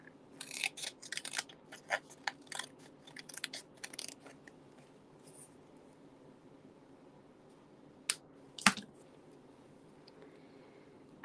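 Scissors cut through dimensional foam adhesive with a quick run of crisp snips and crunches, close and clear, then go quiet before a few isolated clicks near the end.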